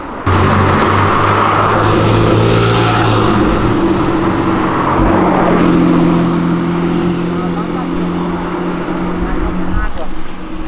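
A new Chevrolet Corvette engine rumbles loudly and steadily with a deep low drone throughout, revving slightly, while a person talks over it.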